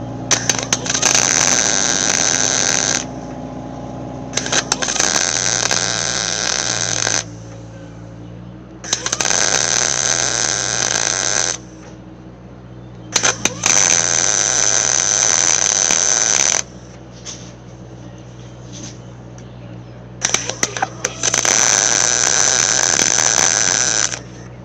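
Welding on the hood lip of a 1968 AMX comes in repeated bursts of harsh crackling hiss, each lasting a few seconds and separated by short pauses filled with a low background hum.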